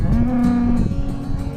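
Cows mooing in a pasture, a long, loud, close low moo that holds steady before tailing off, with another cow's lowing overlapping at the end.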